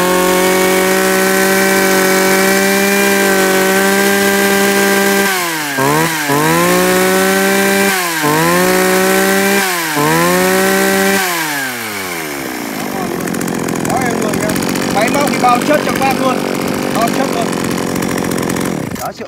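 A Japanese CU2 chainsaw engine starts and runs in a test, holding a loud, steady buzzing idle. It revs up and down in several surges before dropping into rougher, noisier running, with no talk over it.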